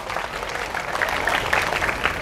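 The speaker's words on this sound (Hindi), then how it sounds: "तालियां होनी चाहिए इसके लिए।" Applause from a career counseling session audience, a steady dense patter of many hands clapping at moderate volume for about two seconds, with no talk over it.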